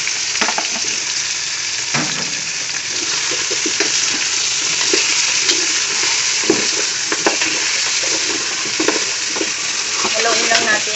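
Pork and tomato sizzle steadily in a hot pan while a utensil stirs and scrapes through them, the frying hiss continuous and close with irregular clanks and scrapes over it.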